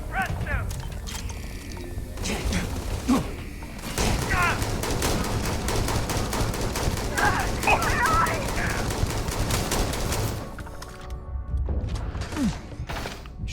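Heavy gunfire rattles through a firefight in Starfield, continuous bursts and rapid shots layered together at close range, with shouted voices and combat noise mixed in before the shooting thins out near the end.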